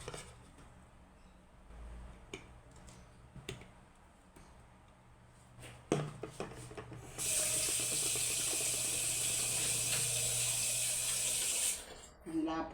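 Water from a tap gushes steadily into a container of thick drink concentrate for several seconds after scattered handling clicks and knocks, then cuts off abruptly.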